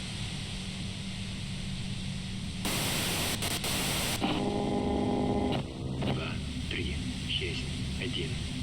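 Harsh white-noise static from the video game Disco Elysium swells over a low hum, with a loud hissing burst, warbling radio-like tones and indistinct voice-like fragments breaking through before it fades back down.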